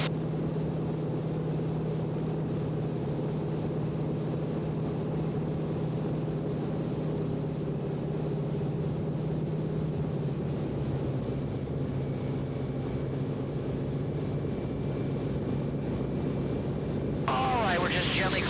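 A vintage warbird airplane climbs after takeoff at reduced power, its engine a steady loud drone throughout, with a voice talking over it and a brief rise in hiss near the end.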